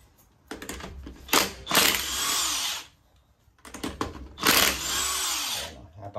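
An impact drill runs in two loud, close bursts, each a few seconds long with a rising whir, separated by brief pauses and small clicks of handling.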